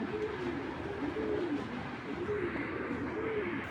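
Pigeons at a farm coo in repeated soft rounded calls, a steady rhythmic series of low warbling coos, close and fairly quiet.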